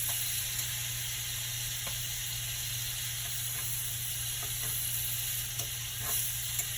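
Shrimp sizzle and fry in a hot pan, a steady close crackling hiss with a low hum beneath and a few faint clicks, no voices.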